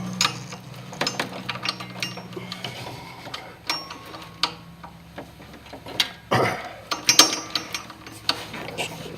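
A 13 mm socket wrench ratchets on power steering pump bolts of a Chevy Colorado, giving irregular close clicks and metallic knocks mixed with handling clatter and rustling.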